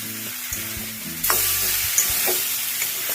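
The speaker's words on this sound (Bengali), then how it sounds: "আলুটা খুব ভালো করে কষা হয়ে গেছে দেখো" Small new winter potatoes frying in a pan for vegetarian aloo dum, with a low continuous sizzle and scattered scraping clicks of a spatula stirring, close and steady, no talking.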